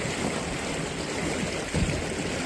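River water rushes and churns around a kayak, a constant close wash of noise with a brief surge of splashing near the end.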